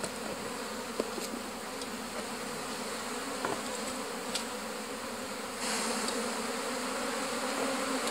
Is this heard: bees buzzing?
yes